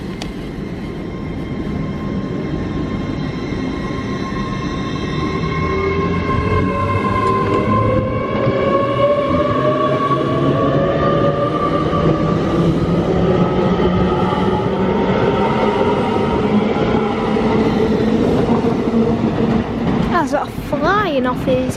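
Class 807 train 807 002 pulling out of Crewe station: a loud, steady rumble with a rising electric whine that builds through the run, and a voice speaking over it.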